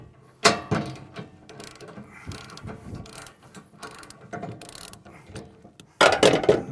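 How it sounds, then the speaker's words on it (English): A hand ratchet loosens bolts on the base of a B&W companion trailer hitch in a RAM truck bed, giving quick clicking bursts and metallic clatter with short pauses between strokes. "loosening these two bolts at all four corners of the companion base"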